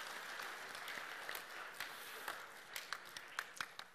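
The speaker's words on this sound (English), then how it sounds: "So give all those folks a big round of applause." Congregation applauding during a Chanukah service, dense steady clapping from many hands at a distance with sharper individual claps standing out toward the end.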